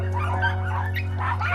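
Puppies trapped in an abandoned house whimper and yip in short, thin bursts over a steady low electrical hum, fairly close and continuous.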